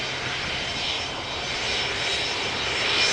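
A fixed-wing airliner arriving at Amsterdam Schiphol on a go-around near the runway, its engine roar broad, steady and loud, swelling slightly toward the end with no voices.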